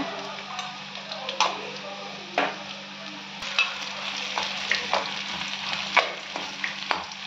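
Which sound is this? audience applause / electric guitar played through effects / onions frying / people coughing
onions frying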